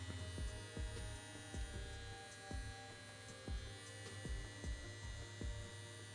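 A CNC S1 tattoo machine runs on an RCA adapter with a steady electric hum and buzz, plus faint regular ticking pulses, near and alone.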